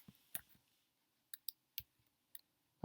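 A few sparse, separate keystrokes on a computer keyboard, faint and close, as a name is typed into a citation. The clicks come singly and in pairs with pauses between them, and no one talks.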